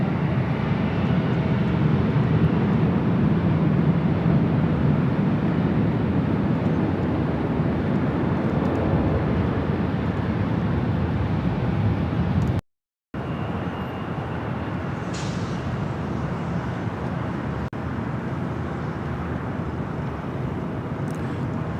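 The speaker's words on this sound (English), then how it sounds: "The A380 is rolling." An Airbus A380 rolls for takeoff at Los Angeles airport, a broad distant engine roar that holds steady and fills the background, heard alone with a brief dropout partway through.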